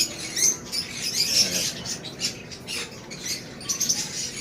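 Many caged birds squawking and chirping at once, a busy overlapping chatter at moderate distance with no voices.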